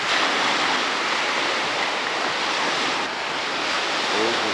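Ocean waves wash steadily onto a beach shoreline near a jetty, a continuous loud roar of surf with some wind buffeting the microphone.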